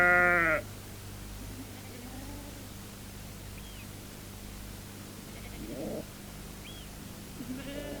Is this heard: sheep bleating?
yes